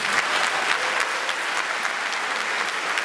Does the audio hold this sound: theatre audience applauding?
yes